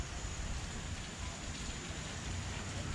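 Rain falling outside in Orlando, Florida, a steady, faint hiss of dense drops with no breaks.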